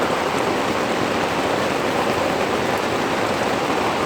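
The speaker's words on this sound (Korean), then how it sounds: "빗소리가 굉장히 큽니다." Heavy rain pouring steadily on a campsite in Godaesan Natural Recreation Forest, a dense, loud hiss with no pauses and no voices.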